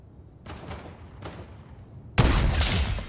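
Gunfire in the Fortnite video game: two short bursts of shots followed by a louder, denser volley that keeps going to the end, with no talking.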